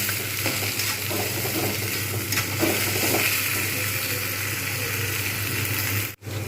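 Ingredients for a rui fish curry with potato, bori and yardlong beans being stirred as they fry in a pan, a steady sizzle with soft scraping under a low hum, cut by a brief drop near the end.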